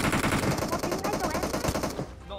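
Rapid automatic gunfire in the mobile battle royale game PUBG Mobile, a fast, continuous rattle of shots at full loudness, with a voice briefly speaking over it.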